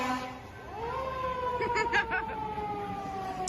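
Fire truck siren at the Magic Kingdom theme park, a wailing tone that rises and holds over street noise, moderately near, with brief voices in the background.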